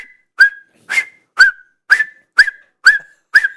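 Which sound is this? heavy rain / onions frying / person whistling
person whistling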